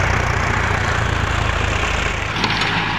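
A Sonalika tractor engine runs steadily and close by during a tractor stunt event, with a continuous low rumble and no speech.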